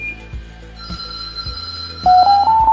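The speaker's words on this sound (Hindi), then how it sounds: "वे स्टेशन पर घंटी बज गई और हमको उसका रिंग बैक टोन भी आ गया" Rhythmic clicking pulses give way to a loud electronic ringback tone, a steady warbling telephone ring near the end, with no one speaking.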